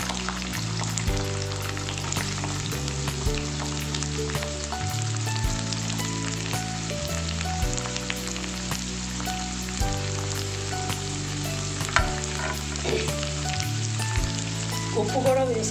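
Curry leaves, green chillies and onions fry in hot oil with a steady, close crackling sizzle throughout, while background music plays underneath.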